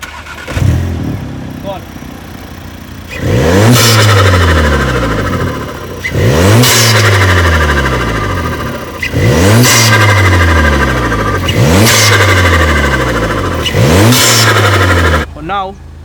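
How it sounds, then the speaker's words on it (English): A VW Polo GTI fitted with a new intake starts up, then revs hard in five repeated loud, close sweeps that climb and fall, with a brief voice between revs. "Well, this is how it sounds on the Polo. Start up."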